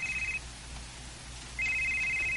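A cellphone rings with a steady electronic tone that sounds once, pauses for about a second, then sounds again, close and clear in a quiet room with no one speaking.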